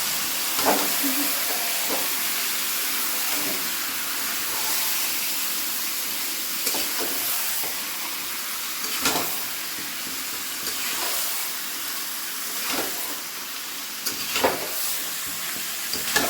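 Meat fries in a hot pan under a steady, loud sizzle, while a utensil stirs and scrapes it every second or two.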